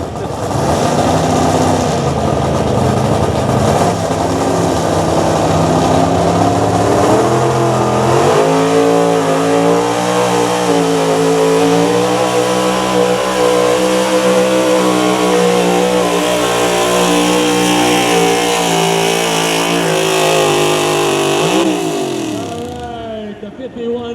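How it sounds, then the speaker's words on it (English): A pulling truck with a 540 cubic inch Ford engine roars at full throttle through a long run at a truck and tractor pull, loud and sustained with shifting pitch, under crowd and announcer noise. "with a 540 cubic inch Ford plant under the hood"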